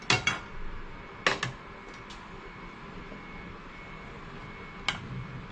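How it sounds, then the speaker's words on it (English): A cooking pan set onto a stove gives a few sharp metallic clanks and knocks, clustered at the start with another a little later and one more near the end, over a low steady background hum. "I'm going to now put a pan here."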